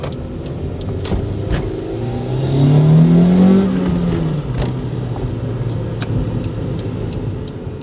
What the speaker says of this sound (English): you'll hear even with the Mugen headers and the test pipe, with the stock muffler, it does so much work